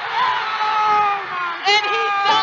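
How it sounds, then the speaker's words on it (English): A loud crowd at a boys' high school basketball game cheers and shouts after a high-rising dunk, a steady roar of many voices that swells again near the end. "I'm sure you guys can hear this loud crowd"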